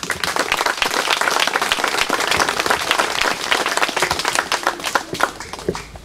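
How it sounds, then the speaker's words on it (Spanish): Lively applause from a community crowd at a street inauguration, many hands clapping loudly and unevenly for several seconds and thinning toward the end. "parece que el aplauso para las obras que recibimos fue demasiado pobre"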